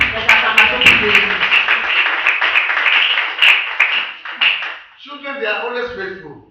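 A church congregation claps and cheers for Jesus in a loud, rhythmic burst mixed with voices, then drops off as a single voice speaks alone at the close.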